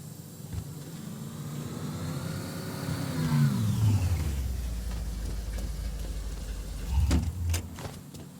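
A car engine warming up in the open-world game Mafia III, a steady mid-pitched hum that rises and then drops into a deep low rumble, with a couple of sharper knocks near the end.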